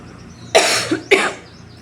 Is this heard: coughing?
yes